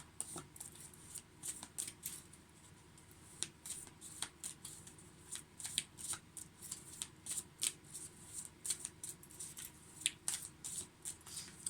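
A deck of cards is shuffled by hand in a quiet room, giving repeated close riffles and soft snaps in an uneven rhythm throughout, with no talking.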